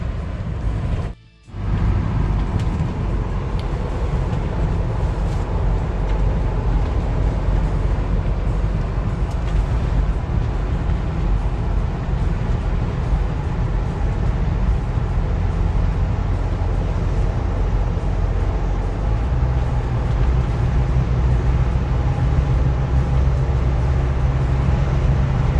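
A Ford Bronco driving through a corner, a steady loud road and engine roar with tyre and wind noise throughout, interrupted by a brief dropout near the start.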